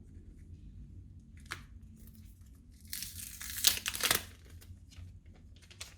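A Huawei P30 Pro phone box being opened, with a quiet rustle and a brief crinkle, then a louder burst of paper and plastic tearing and crinkling up close before it settles into faint handling.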